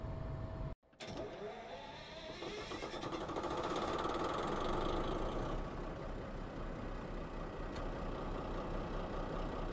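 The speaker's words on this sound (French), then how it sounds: "on va lancer le moteur maintenant" A diesel engine starts up in a BB 69400 locomotive in Train Simulator 2020, with a brief silent gap, then the cranking catches and settles into a loud, steady rumbling idle that holds to the end.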